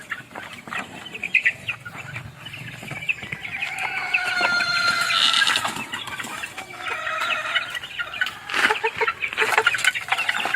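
Young roosters, stags in a backyard flock, cluck and squawk at feeding time, with overlapping calls, wing flaps and scuffling close by in a busy, uneven chorus.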